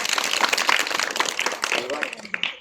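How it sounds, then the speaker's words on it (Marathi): A crowd claps in a dense, crackling burst of applause, mixed with cheering and raised voices throughout. "तुमच्यासाठी सगळ्यात जोरदार टाळ्या झाल्या पाहिजे सगळ्यात"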